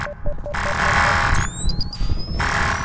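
Short repeated electronic beeps sound early on, then high sustained tones, amid a dense, noisy background of game effects.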